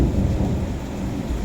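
Low rumbling thunder rolls steadily through a rain shower, a continuous deep grumble with no distinct cracks, fairly close and filling the whole moment without any voices.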